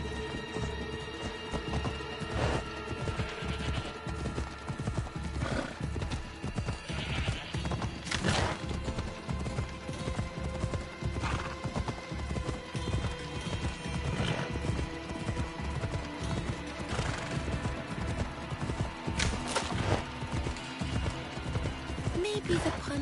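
The horse Phobos gallops in Assassin's Creed Odyssey, hooves pounding in a fast, continuous rhythm, with occasional neighs and impacts and a voice speaking over the sound.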